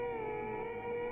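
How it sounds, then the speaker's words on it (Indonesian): A wild animal howls in one sustained, steady tone with layered pitches, clear and alone for about a second. "kupingku dengar itu auman suara hewan buas"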